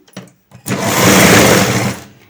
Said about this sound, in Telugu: దీన్ని ఈ విధంగా పై వైపు నుంచి స్టిచ్ చేసుకుందాం